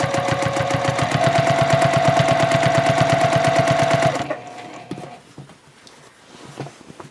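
A sewing machine stitches steadily around the edge of a tote bag in a fast, even rhythm for about four seconds, then stops, leaving only faint handling sounds.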